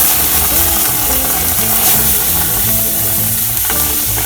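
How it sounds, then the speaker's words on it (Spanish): Salsa hits a very hot pan over a wood fire on a Mexican ranch and sizzles loudly and steadily up close, with a low engine-like hum running underneath throughout. "Ya está bien caliente, ahora sí vamos a proceder a poner esta salsita."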